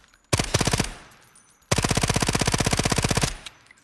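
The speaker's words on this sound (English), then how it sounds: "So that's the MP7" An MP7 A2 submachine gun in the video game Delta Force fires a short burst, then after a brief pause a longer sustained burst of rapid, evenly spaced shots, loud and close.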